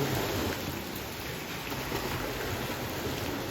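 Steady rain falling outside a beach house in the Philippines, a continuous broadband hiss with a soft low rumble underneath, constant and fairly close with no talk.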